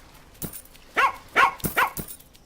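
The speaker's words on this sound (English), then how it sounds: "that guy's going to bark at the fox" A farm dog in the video game Plantera barks at a fox: a few short, sharp barks in quick succession, clear and alone.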